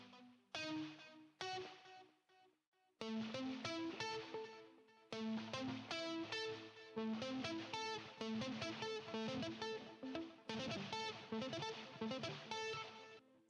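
Electric guitar played in a sweep-picking exercise, quick rippling arpeggio runs of picked notes in steady bursts with brief pauses between phrases, close and alone with no talking.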